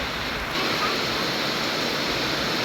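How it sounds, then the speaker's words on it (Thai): Steady rain pours down near a small hut in rural rice fields, a dense, even hiss that holds at constant loudness throughout with no break. "ฝนก็ตก"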